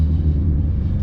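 A McLaren Artura engine gives a steady, low, heavy rumble throughout, heard from inside the car with no talking.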